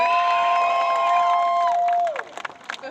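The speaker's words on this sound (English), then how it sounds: "Class of 2024, give yourselves another round of applause" A Roxborough High School class of 2024 crowd at graduation: a long sustained cheering voice rises over the crowd, then breaks off into scattered claps and shouts that quickly fade.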